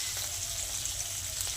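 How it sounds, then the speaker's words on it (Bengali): Pangas river fish pieces fry in hot oil, a soft, even, continuous sizzle heard up close with no voices. "এরপর মাছগুলো তেলে ছেড়ে ভেজে নেব।"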